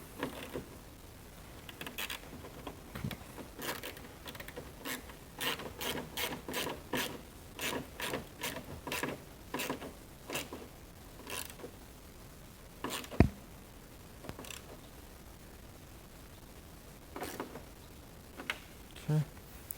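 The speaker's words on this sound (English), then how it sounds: "Just take and put your screws back, or your nuts back on." A ratchet clicks in rapid bursts while 10 millimeter nuts are run onto the bolts of a 1999–2004 Mustang spoiler, close and moderately loud, with pauses between runs and someone talking over parts of it.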